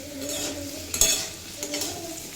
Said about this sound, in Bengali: দুই মিনিট মতো লো টু মিডিয়াম ফ্লেমে রেখে কুমড়ো ভেজে নিয়েছি